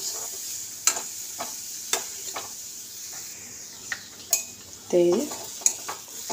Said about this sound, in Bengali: এটাকে এরকম করে শুকনো ভেজে নিতে হবে